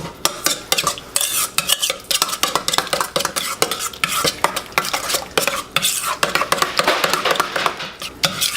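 Italian seasoning being stirred into a mixture for a Chicago-style deep dish pizza, with a utensil scraping and clinking steadily against a bowl in quick, busy strokes, close and fairly loud.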